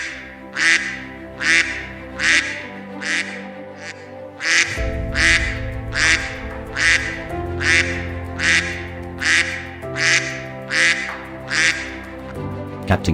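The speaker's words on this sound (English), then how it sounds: "suddenly, the alarm quack started going off" A duck quacking alarm sounds off in a regular repeating pattern, a dozen loud nasal quacks evenly spaced, later backed by a low droning musical bed.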